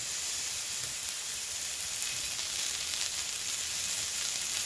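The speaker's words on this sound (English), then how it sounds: "you have to put the chicken sticks, as you can see, on the grill or pan, and you have to cook them" Chicken sticks sizzle steadily in olive oil on a grill pan, a dense, even frying hiss that stays loud and unbroken throughout with no voices.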